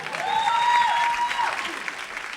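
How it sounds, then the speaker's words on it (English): Audience applause at a poetry performance event, a steady burst of clapping from the crowd that swells and then slowly fades over a couple of seconds. "Can we please have another square of applause, round of applause?"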